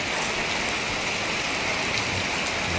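Steady rain falls on surfaces during flooding in Bacolod, Philippines, an even, constant hiss without pause or voices.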